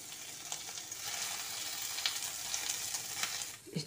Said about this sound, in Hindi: तेल को अच्छी तरह से गर्म होने देंगे और इसमें डाल देते हैं कटा हुआ पनीर डाल दिए।